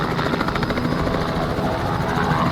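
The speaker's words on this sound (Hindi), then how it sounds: "अभी हेलीकॉप्टर उड़ के उधर से ही जाएगा" A helicopter roars steadily and loudly nearby, its rotor chop and engine whine filling the air without pause, with no clear fading yet.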